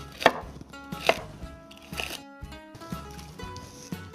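A knife chops celery on a cutting board, giving a handful of crisp, separate thunks about a second apart. The strikes are close and fairly quiet, with no talk.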